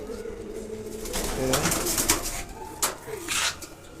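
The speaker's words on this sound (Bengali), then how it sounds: "বাকি 30টি পায়রা উড়ছে" Racing pigeons in a summer flying contest coo softly and fairly close, with a couple of short throaty coos in the middle amid faint outdoor background rustle and bursts of noise.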